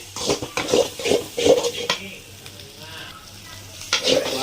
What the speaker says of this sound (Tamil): எண்ணெயில் இந்த மாதிரி நல்லா வணக்கிடணும் இப்போ தான் அந்த மசாலா வந்து நல்லா வேகும்